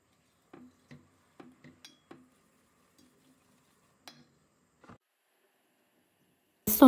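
A spoon stirs plum marmalade with sugar in a pot, giving a series of soft scraping clinks in an uneven rhythm with pauses between, quiet and close, followed by a louder rustle at the very end.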